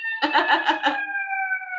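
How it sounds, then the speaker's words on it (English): A passing emergency vehicle's siren gives a few quick pulsing wails, then settles into a steady, loud sustained tone. "Let that siren go by."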